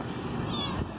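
An orange cat gives a single faint, brief meow outdoors in Titusville, Florida, ahead of a storm, over a steady background hiss.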